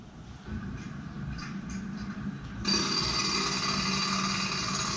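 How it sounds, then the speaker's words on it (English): A low rumble gives way to a sudden loud, steady blast of rattling jackhammer noise that continues to the end. "Let me play a jackhammer for you."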